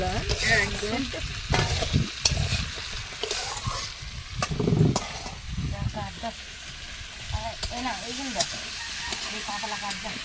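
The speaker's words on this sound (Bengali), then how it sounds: "কুমড়োর সঙ্গে ভাজা হবে" Shrimp, pumpkin and vegetables fry in a pan with a loud ongoing sizzle, broken by repeated scrapes and knocks of stirring, and brief bursts of talk woven between them.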